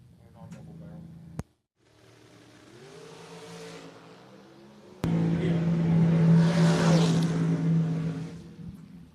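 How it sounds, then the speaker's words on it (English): Drag race vehicles at a spring King of the Creek event, an engine drone building then a loud roaring surge as cars launch and accelerate, with crowd and announcer voices underneath. "How about this drag race?"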